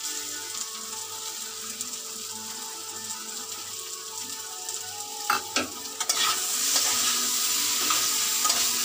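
Spice paste of ginger paste, ground coriander, cumin and radhuni paste sautéing in a pan, a continuous sizzle broken by scraping stirs and a few clacks of the spoon near the middle, then a brighter frying hiss.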